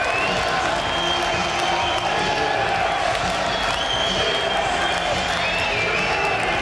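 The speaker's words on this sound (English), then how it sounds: "Seattle crowd now making some noise." A Seattle stadium crowd at a 2010 Lingerie Football League game, Seattle Mist against Dallas Desire, keeps up a steady roar and scattered cheers before a fourth-down play, with an announcer talking over it.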